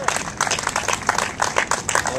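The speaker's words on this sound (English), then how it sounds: "I think that is something that deserves a round of applause from all of us" Audience applause at a press conference, a dense steady wash of many hands clapping throughout, moderately loud with crowd noise mixed in.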